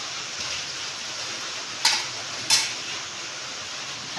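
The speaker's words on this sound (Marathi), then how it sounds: "इकडे तेल पण तापायला ठेवले" Oil heating in a pan for frying modak gives a steady, faint hiss with two brief louder crackles partway through; no one speaks.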